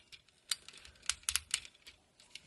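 Knee joint of a KO MP-44 Optimus Prime improved version 4 toy figure ratcheting, a quick run of crisp, close plastic clicks spread over a couple of seconds.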